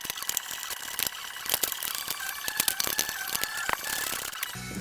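A ratchet spins on bolts during a fuel injector repair on a Chrysler Pacifica, with dense, rapid clicking runs that speed up and pause in close, loud bursts.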